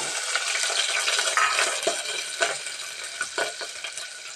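Cumin, mustard seeds and finely chopped onion fry in hot oil, a steady broadband sizzle with scattered crackles and occasional stirring scrapes, close and continuous with no voices.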